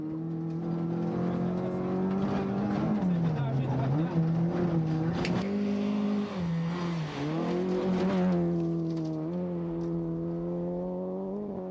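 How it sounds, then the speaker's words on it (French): Onboard a rally car at Rallye Saguenay 2006, driven fast on a gravel road: a steady droning engine whose pitch dips and climbs with gear and throttle changes, with a voice talking over it. "Le son nous permet de voir qu'il y a beaucoup de gravier."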